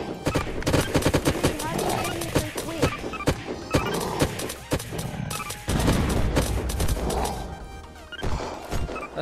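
Rapid bursts of gunfire in the video game Unturned, sharp cracks and volleys repeating throughout at close range, mixed with excited voices talking over the shooting.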